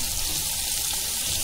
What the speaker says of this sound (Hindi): फ्राई पैन रखे, गरम हो गया। अभी ये मस्का डालेंगे,